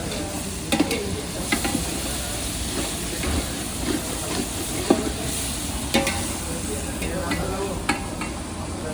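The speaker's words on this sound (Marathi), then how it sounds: "इकडे आमचे बघा मिरची करतात" Chillies fry in a pan at a village religious festival cooking area, giving a steady loud sizzle with occasional clinks and scrapes of stirring.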